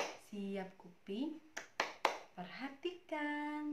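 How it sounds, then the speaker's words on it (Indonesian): A teacher leads a classroom clap routine for young learners; a few quick, sharp hand claps land between rhythmic chanted speech. "ibu mau mengajak anak-anak untuk tepuk belajar terlebih dahulu"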